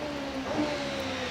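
A blue Pilbeam hillclimb car with a 4-litre Judd engine accelerates up the straight at Loton Park, its engine whine rising somewhat distant and fairly faint against open-air background noise.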